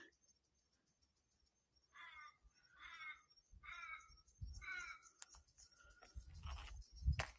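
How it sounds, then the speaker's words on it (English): A crow caws four times in a slow, evenly spaced series, fairly distant, in an open bushland lookout at Mt Blackheath in the Blue Mountains, Australia, followed by rustling and wind buffeting close by. "And the crow's the only bird I can hear at the moment."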